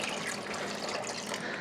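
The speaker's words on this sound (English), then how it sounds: "it is going to need some more water. So we'll do about another 2 cups." Water pours steadily into a pot of green slime made from a whole box of instant potatoes, about two cups added in one quiet, continuous splashing stream.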